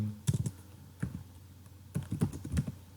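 Typing an SQL query on a computer keyboard, short bursts of close key clicks separated by brief pauses.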